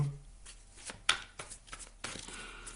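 Tarot cards shuffled by hand for a reading, a few brisk soft riffles and taps close by in a quiet room, no talk.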